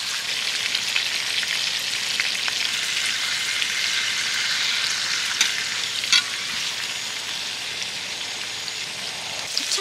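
Meat sizzles steadily in plenty of oil at a rainy solo car-camping site, a dense, close crackle and hiss running evenly throughout with a few sharper pops.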